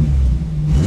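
A Megasquirt-injected 3.1L V6 swapped into a 1973 MGB GT rumbles at a steady, low, close idle-to-rev drone, heard briefly from inside the car with a quiet muffler.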